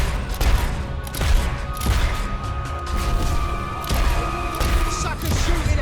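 Enemy gunfire in Fable III crackles in a dense, ongoing volley with scattered sharp shots and thuds amid loud battle noise.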